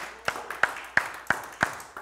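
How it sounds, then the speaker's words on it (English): A church congregation claps five sharp, separate hand claps at a steady, slightly slow rhythm, fairly close and distinct, with a faint room murmur between beats. "Give the Lord a hand clap"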